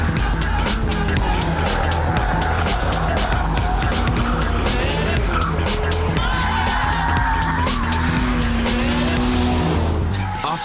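Renault Clio 197 driven hard around a race track, loud continuous engine roar with long, rising tire squeals through the corners, close and sustained throughout.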